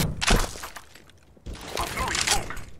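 An incendiary grenade in Counter-Strike shattering on impact, a short crash and burst of flame heard close up over game noise, with a voice speaking briefly.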